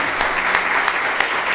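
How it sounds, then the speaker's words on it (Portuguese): Congregation in a church breaks into applause, a thick continuous roar of many clapping hands with a few sharper claps standing out, brief and fairly loud. "As palmas são para o Senhor."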